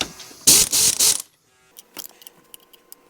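A 10mm wrench works on the regulator of a Bosch VE diesel injection pump on a 1989 Dodge Ram 5.9L Cummins, giving a loud close metallic rasping burst followed by fainter ticks and clicks.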